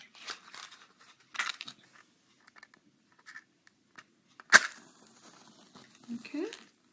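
A match is struck to set fire to pure cotton yarn, giving one sharp, close scrape-and-flare burst, with faint rustling and small handling noises before and soft crackling afterward.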